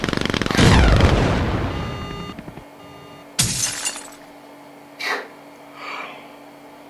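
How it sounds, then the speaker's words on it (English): A video game airship comes under missile fire, opening with a loud shattering blast that rings out and decays, followed by a sharp second explosion and two softer distant bursts. "Missile. They're firing on us."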